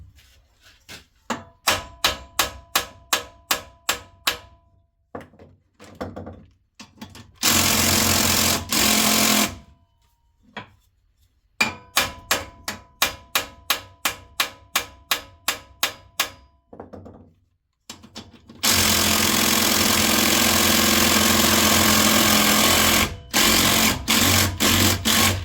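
On a 1989 12 hp Briggs & Stratton L-head engine, an impact wrench hammers at a bolt in rapid rattling bursts, set apart by short pauses and sustained whirring runs.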